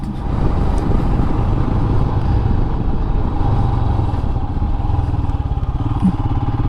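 A Royal Enfield Himalayan motorcycle fitted with a booster plug and AIS delete thrums along while riding, its single-cylinder engine and exhaust giving a loud, steady, close pulsing drone throughout.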